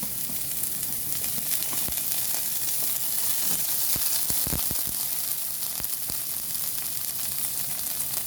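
Garlic sautéing in a hot pan gives a loud, continuous sizzle and crackle, with scattered pops and spatter bursts throughout.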